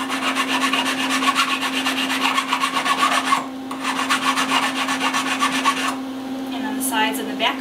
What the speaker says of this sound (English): I'm just going to file out the excess metal from the inside of the ring.